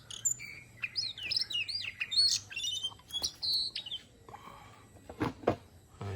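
A tame oriental magpie-robin (kacer) sings a quick run of bright, varied chirps and whistles close by, then a few sharper calls and clicks as the song breaks off.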